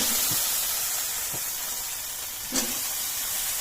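Potatoes hit hot oil in a pan already seasoned with ginger paste, cumin paste and ground spices, giving a steady broadband hiss with a few faint clinks, alone and moderately close throughout.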